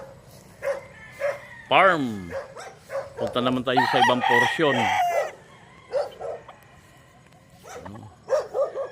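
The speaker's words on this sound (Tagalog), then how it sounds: "may mga bantay din sila rito, aso" Dogs bark in short bursts among roosters crowing and hens clucking at a chicken farm in Bauang, La Union, beside a highway. Someone talks over the animal calls, which are close and fairly loud.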